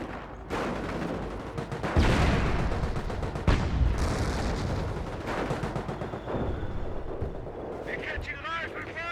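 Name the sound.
Bren light machine guns firing in Company of Heroes video game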